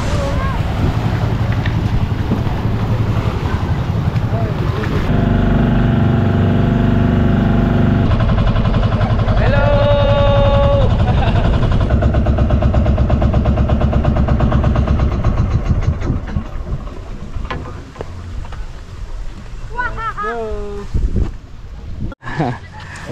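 A motorboat engine drones steadily and loudly with wind buffeting the microphone near Colibra Island, Dasol, Pangasinan, while people talk over it and the engine noise eases toward the end.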